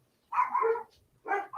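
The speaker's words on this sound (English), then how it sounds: "dog's going crazy" A dog barks nearby in two short bursts separated by a brief pause, fairly loud and clear, with no talking over it.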